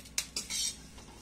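Fried curry leaves being moved from a pan onto a plate with a metal spoon, giving a few close, light clinks and scrapes of metal on dishware, with a short rustling scrape in the middle.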